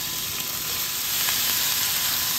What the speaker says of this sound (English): To my pan that has been preheating over a medium-high heat, I'm gonna add in my oil